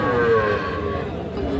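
Cattle at a weekly livestock market in Parbatipur, Dinajpur, among young bulls and heifer calves, giving a drawn-out moo over the steady low murmur of a busy crowd.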